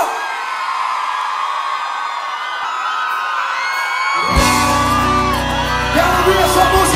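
A live concert crowd erupts in loud shouting and whoops, swelling from a bright roar of many voices into a dense cheer as the band's music kicks in underneath.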